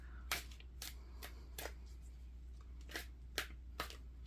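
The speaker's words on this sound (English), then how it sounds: "you probably don't want to watch me shuffle any longer" Playing cards being riffle-shuffled by hand, a run of about eight sharp, crisp riffles at uneven intervals, close and fairly quiet over a steady low hum, with no talking.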